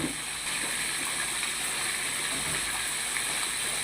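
Second-press coconut milk being poured into a pot of jackfruit for ginataan, a steady close liquid rush and splashing that runs continuously without pause.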